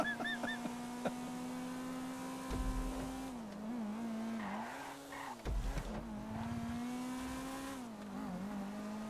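Video game race car engine holding a steady whining pitch with rising and falling revs, broken by bursts of tire squeal and skidding, moderately loud with no talk.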